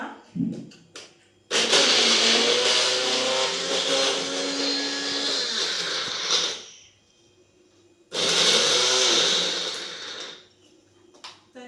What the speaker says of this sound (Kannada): ಈಗ ಒಂದೊಂದಕ್ಕೆ ಗ್ರೈಂಡ್ ಮಾಡ್ಕೊತಾ ಇದ್ದೀನಿ ಫಸ್ಟು ಆಮ್ಲ